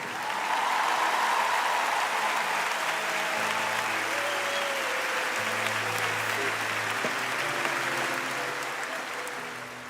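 Steady, sustained audience applause in honour of a guest, a dense even wash of clapping that holds at moderate level for nearly ten seconds while music plays faintly beneath.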